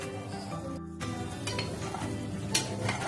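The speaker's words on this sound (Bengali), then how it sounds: "খুব হালকা হাতে নেড়ে দেবো" A whole lote fish curry in oil is stirred gently in a pan, giving soft scraping and sizzling with a few light utensil clinks, close and quiet.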